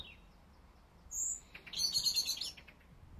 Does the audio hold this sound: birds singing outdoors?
yes